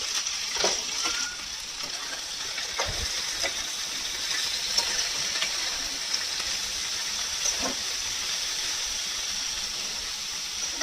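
Semolina (suji) fries in a pan for savory upma, with a steady, soft sizzle and occasional light stirring clicks scattered across the whole stretch.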